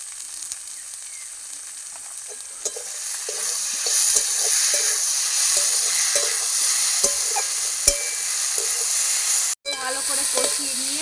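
Fig curry with tomato sauce stir-frying in a pan, a bright steady hiss of frying with occasional sharp clicks of the spatula and a brief break near the end.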